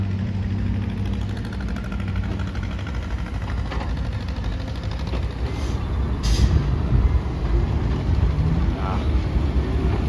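A ten-wheel dump truck climbs out of a 15 m deep pit at a wastewater pond dig, its engine a steady loud diesel drone with continuous rumble throughout, close by.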